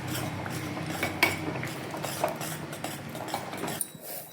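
A spoon stirs wheat halwa made with butterfly pea flowers and ghee in a pan, producing a steady, soft run of scraping and light metallic clinks that drops away sharply near the end.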